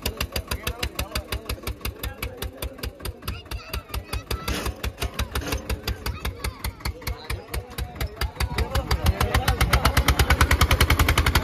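An Eicher tractor engine with a stuck gear chugs in a fast, even diesel thump, loud and close, its beat growing heavier and louder toward the end.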